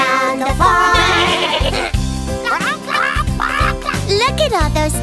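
A singing voice imitates a goat's bleat with repeated 'meh' sounds in a children's farm song, rhythmic bleats over bouncy backing music.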